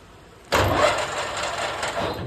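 A metal lathe switches on to turn an MT4 taper for a live center shank, a sudden motor whir rising from quiet and then running steadily at low speed, close and loud.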